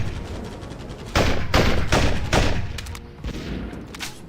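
Rapid machine gun fire in the Tacticool mobile shooter game, several dense loud bursts in quick succession with short gaps between them.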